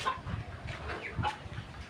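Chickens clucking at feeding time, a few soft irregular clucks close by over a quiet outdoor background.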